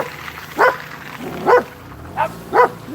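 Dogs, including a freshly shaved old poodle, give four sharp barks at uneven intervals, fairly close, over a quiet background.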